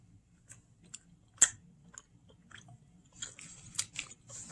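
Someone bites and chews a cheeseburger topped with ketchup and blue cheese, from a dining hall, close up: a sharp crunchy bite followed by irregular soft, wet chewing and smacking over a quiet background.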